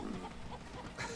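Chickens in the Moving Out video game give a few short, faint clucks in quick succession over a low background, with no speech.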